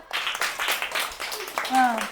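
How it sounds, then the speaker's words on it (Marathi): Children clap for a classmate during a number-learning game, with a brief scatter of hand claps near the start followed by an adult talking over the room. "छान संदीपसाठी टाळ्या वाजवा"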